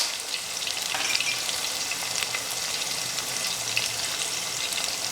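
Mutton keema for stuffing Rajasthani bati sizzles steadily in a pan, a continuous close frying hiss with occasional light stirring scrapes and no talking.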